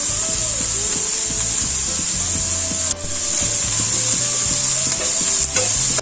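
Sliced onion with salt sautéing in a pan, a loud, steady sizzle with a bright hiss, while a spoon repeatedly scrapes and stirs against the pan, close up and uninterrupted by voices.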